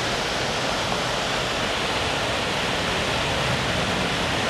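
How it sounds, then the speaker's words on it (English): A waterfall at a riverside resort pours in a steady, dense, broadband rush that stays loud and unbroken throughout, with no voices. "Waterfalls."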